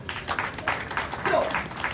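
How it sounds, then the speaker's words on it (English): An audience at a political speech in Uganda claps in a steady, dense burst of applause that fills the whole moment. "Can we clap for that?"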